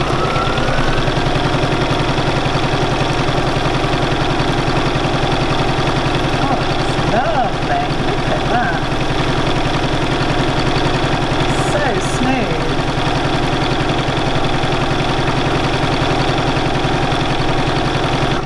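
A Bernina 475QE sewing machine running steadily during free machine embroidery, a continuous close motor hum with rapid needle rhythm throughout, with faint speech-like sounds in places.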